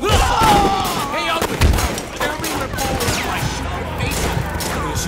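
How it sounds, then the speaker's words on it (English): Bursts of gunfire in the open-world action game Sleeping Dogs, loud rapid shots and impacts layered over game effects and a faint voice, continuous for several seconds. "who's shooting me?"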